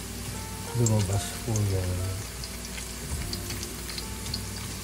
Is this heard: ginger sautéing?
yes